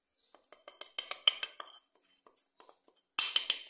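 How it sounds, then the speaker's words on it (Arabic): A metal spoon stirs onions and spices in a pot, making a quick series of clinks and scrapes against the pot's sides, a pause, then a final louder burst of clattering. "ومستمرين بالتحريك حتى ترخت معانا هاد البصيلة"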